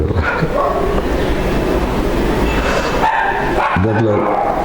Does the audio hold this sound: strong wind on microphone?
no